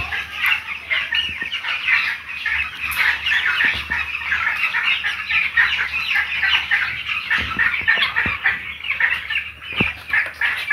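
A dense chorus of 13-day-old broiler chicks cheeping and peeping continuously in a poultry shed during intense heat, many birds together, loud and close with no talking.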